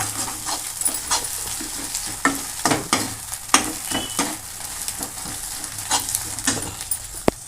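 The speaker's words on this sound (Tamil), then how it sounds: "நல்லா மிக்ஸ் பண்ணிக்கங்க" A dish of sorrel leaves (pulicha keerai) is stirred in a pan, giving repeated scraping and clattering strokes in an irregular rhythm over a continuous sizzling fry, close and fairly loud.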